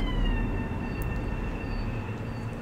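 A Long Island Rail Road train rolls along steadily in the Train Sim World video game, a continuous low rumble with a faint tonal whine and a brief high click partway through.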